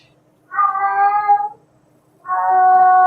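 A hungry cat gives two loud, close meows with a short gap between them, the second one longer and still going at the end.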